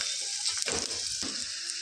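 Tempering of garlic, seasoning seeds, dried red chillies and asafoetida sizzles loudly in two tablespoons of oil in a small pan, a dense close crackling hiss over a couple of seconds.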